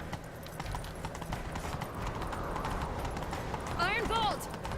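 Galloping horse hooves from a video game pound in a quick, continuous rhythm, with a voice speaking briefly near the end.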